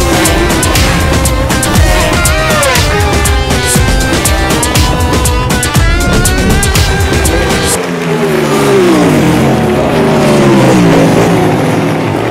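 Cartoon race car engine in a children's animated race, a loud continuous revving roar with rising and falling pitch sweeps, set against bright music throughout.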